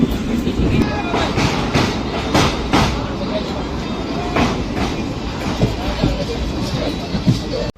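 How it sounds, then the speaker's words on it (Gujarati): The Okha-Bhavnagar express runs on rails approaching Kanalus junction, a continuous rumbling roll with rhythmic clickety-clack wheel beats and occasional sharp rail clanks, heard from inside the moving train. "કાનાલુસ જંકશનમાં એન્ટર થાય છે ટ્રેન."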